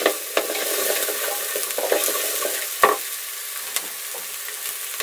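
Onions sizzle in hot oil while a spatula stirs them, with crackling frying punctuated by sharp scrapes and clicks against the pan, close and fairly loud, no voices.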